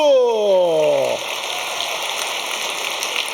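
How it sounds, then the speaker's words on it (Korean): Steady hissing applause from a congregation at a children's Christmas church service, following a brief voice and continuing evenly to the end. "아 박수!"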